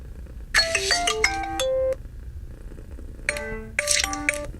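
Huawei Watch 2 Classic ringtone plays a bright chiming melody in two phrases separated by a pause, loud and close, with no talking.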